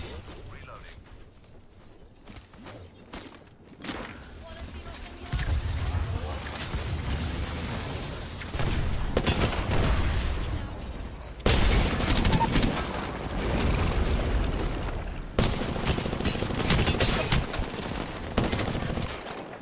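Dense bursts of gunfire in a team-based shooter video game, loud and sustained in several waves, with a player talking over the shooting.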